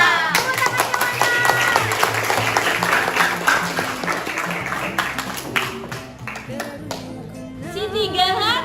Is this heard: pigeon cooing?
no